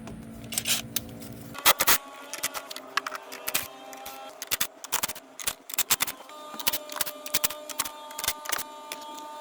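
A 14mm socket wrench ratchets off golf cart battery cables in close, sharp clicking bursts with short pauses between them, with metallic taps and scrapes and no talk.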